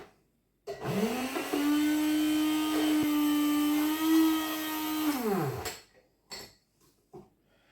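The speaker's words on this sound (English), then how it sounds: "you whisk it until it becomes nice and thick" Greek frappe coffee whisked with an electric frother, a steady high-pitched motor whine that holds for several seconds and then winds down, followed by a few light clinks.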